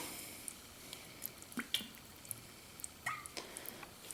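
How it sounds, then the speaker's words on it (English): Olive oil drizzled over meatless stuffed grape leaves (dolma), heard as faint, scattered drips and soft wet splats in a quiet kitchen with no talking. "I'm gonna add a little bit of olive oil."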